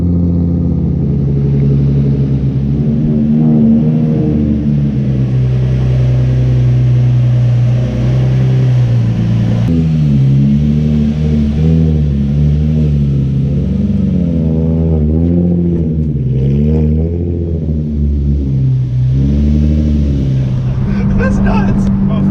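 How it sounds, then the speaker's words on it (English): A Nissan Z with stiffer suspension on a night test drive, its engine droning steadily and shifting pitch as it accelerates, loud and close from inside the cabin, with occasional talk over it. "We're gonna go ahead and take it for a test drive."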